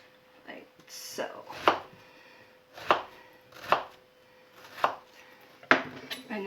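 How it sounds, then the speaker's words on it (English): A small knife makes partial slices through an onion for fried rice, giving about six crisp, evenly spaced chops on a cutting board, close and distinct. "And you're just going to make little slices, but not all the way through."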